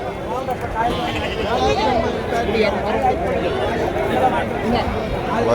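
Native goat kids bleat amid a busy crowd at the large Krishnagiri goat market, their wavering cries rising over constant loud chatter and talk close by.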